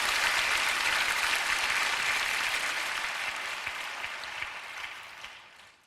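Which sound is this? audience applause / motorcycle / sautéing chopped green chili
audience applause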